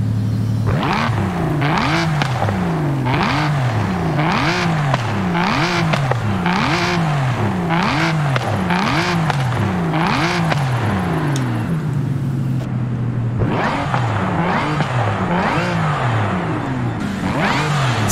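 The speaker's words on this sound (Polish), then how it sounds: "Słychać ten supercharger" Supercharged car engine in Forza Horizon 5 revving repeatedly in rhythmic rising and falling bursts, loud and close with supercharger whine, pausing briefly before one more sustained rev.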